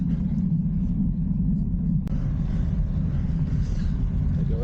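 A sporting director's car follows cyclists up a foggy Pyrenees climb. The engine gives a constant low rumble close by, with a brief sharp click partway through.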